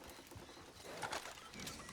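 A horse walks in with steady clip-clopping hooves close by, its hoofbeats mixed with faint bird calls in an outdoor setting.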